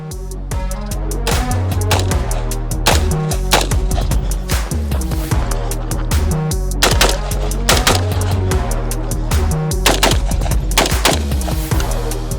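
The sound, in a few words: rifle gunfire with 62 grain Armscor reloads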